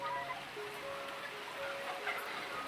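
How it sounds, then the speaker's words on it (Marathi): Rain falls at a chicken farm as a faint, steady patter with a soft hiss and no voices. "पाऊस परत चालू झाला"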